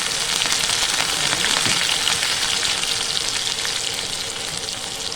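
Cumin seeds and green chilies sizzle steadily in hot oil for a tempering, a loud, even crackling hiss that holds throughout with no talk.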